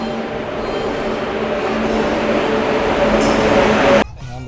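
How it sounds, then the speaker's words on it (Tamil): A passenger train in India rumbles steadily for several seconds, a loud, continuous, close-up roar of wheels and carriages with a sharp cutoff near the end. "இதுதான் நாம் போகிற ட்ரெயின்."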